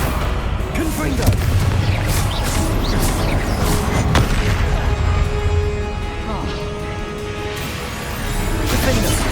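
Repeated heavy booms and crashes from Confringo spell blasts in the Hogwarts Legacy video game fill a loud, busy battle, with voices shouting over the continuous rumble.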